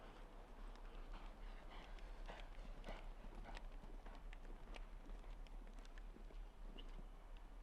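Hooves of an 11-year-old Oldenburg show jumper gallop through a round in an outdoor grand prix arena, a faint, rapid rhythmic clip-clop under a steady hum of crowd and ambient noise.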